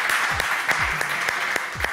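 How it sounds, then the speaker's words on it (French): Audience applause at the Miss JJDA 2011 pageant, a steady wash of clapping held at an even level for about two seconds, with a few sharper claps and low thumps poking through. "Et on applaudit"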